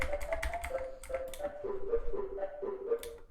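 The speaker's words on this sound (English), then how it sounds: "I've added a fruity reverb that I've used to widen the sound" Quiet synth plucks with Fruity Reverb widening, mostly wet signal, a short pattern of soft tonal hits about twice per second with airy clicky transients, faint and low in level.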